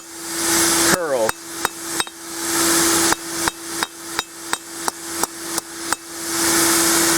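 A hand hammer strikes hot forged steel on an anvil while shaping a feasting spoon, about a dozen sharp ringing blows in an uneven rhythm over a steady forge blower hum.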